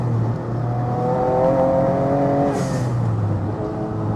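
Noble M12 3R turbocharged sports car accelerating hard, a steady rising engine drone heard from inside, brief whoosh near the end, no talk.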